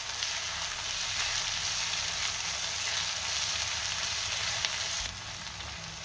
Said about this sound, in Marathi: तेल आणि बटर गरम झालंय, त्यामध्ये आपण कांदा घालूया।